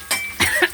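A short cough of two or three quick bursts in a home kitchen while cooking, close and moderately loud.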